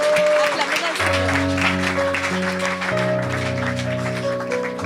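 Church congregation applauding in steady, dense clapping over sustained organ-like music chords, with voices mixed in throughout.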